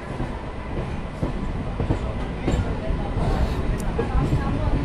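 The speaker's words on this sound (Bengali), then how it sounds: "অবশেষে নতুন ট্রেন মশাগ্রাম জংশনের এই 2 নম্বর প্ল্যাটফর্মে" A new passenger train at Masagram Junction platform 2 rumbles continuously with a steady low roar and faint wheel clatter, loud and close, with crowd noise mixed in.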